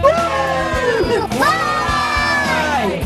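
A large crowd of University of Kentucky fans cheers and whoops loudly, with shouting voices rising and falling over a steady rhythmic thumping beat.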